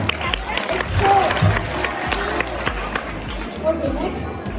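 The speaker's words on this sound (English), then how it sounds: "Clap for yourself." Children at a Children's Day celebration clap for themselves, a burst of scattered, uneven applause mixed with crowd chatter and children's voices in a lively room.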